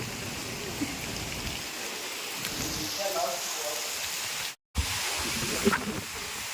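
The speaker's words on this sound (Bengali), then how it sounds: "দেখো গাইস খুব জোরেই ঝড় হচ্ছে।" Steady heavy rain pours down during a strong storm from Cyclone Remal, a dense broadband hiss lasting throughout with one brief dropout near the end.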